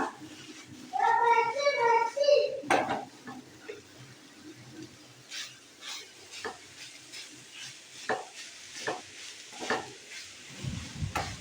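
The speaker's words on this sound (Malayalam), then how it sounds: "ഇളക്കിയെടുക്കുമ്പോൾ ശ്രദ്ധിക്കണം അരി മുറിഞ്ഞു പോകാതെ" Cooked rice is stirred gently in a pan with soft, scattered scraping and clicking strokes at close range. A brief high, meow-like cry is heard near the start.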